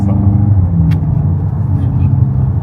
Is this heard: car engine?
yes